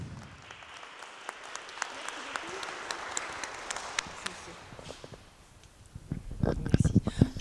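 Audience applause at a choir concert welcoming a speaker to the stage, steady moderate clapping from a seated crowd that thins midway, then a few louder close handclaps and rustling near the end.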